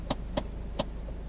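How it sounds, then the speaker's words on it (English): Car handbrake being pulled on, three sharp clicks of the ratchet, close and fairly quiet over a low idling hum. "And then put the handbrake on."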